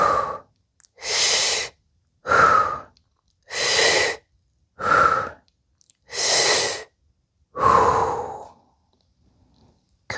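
Deep, slow breaths during a gentle fascial movement exercise, seven long audible inhales and exhales separated by short silences, close to the microphone with no talking.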